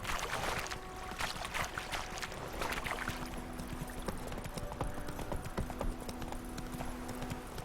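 Horse hooves clip-clopping at a steady gallop in the video game The Witcher 3: Wild Hunt, a continuous rhythmic beat running throughout beneath faint ambient game sound.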